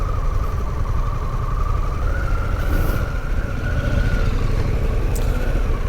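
A Harley-Davidson Pan America adventure motorcycle rides an off-road adventure trail at the ABR Festival, its engine a steady, close droning hum with a faint whine running throughout and no talking.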